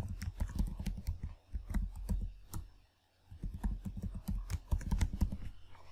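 A username and password are typed on a computer keyboard in dense bursts of crisp key clicks, with a brief pause midway, close and steady with no voices.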